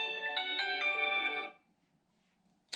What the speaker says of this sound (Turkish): Telefon çalıyor ya.